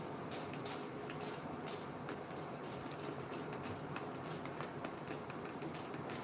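Short hissing bursts from a spray can repeat irregularly, fairly quiet against a soft background, with no one speaking.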